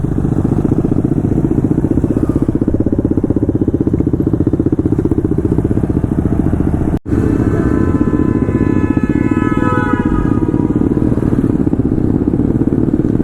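Loud motorcycles on a group ride rumble continuously close by, a deep throbbing roar with a brief cutout midway, joined later by a revving engine rising in pitch.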